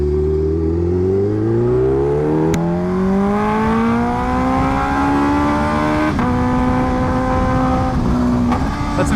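Kawasaki Ninja H2R motorcycle engine revving loudly and close, pitch climbing and holding high through several sustained revs with brief dips between them, no talking.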